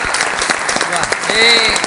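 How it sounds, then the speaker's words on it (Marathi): An audience clapping at a Satyamev Jayate Water Cup competition event. Brief, dense applause rises under a loud voice speaking over it. "टाळ्या वाजवा"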